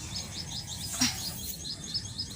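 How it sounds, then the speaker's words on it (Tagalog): Small birds chirp and tweet in quick repeated calls in a rice field, against a steady outdoor background hum, with one slightly louder call partway through. "Wala kang ibang maririnig na ingay, kundi yung mga tunog lang ng mga ibon"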